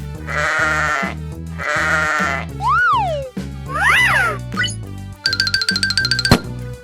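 A sheep bleats twice in wavering, nasal cries over a bouncy backing beat, followed by playful boings, whistles and a ringing chime pattern.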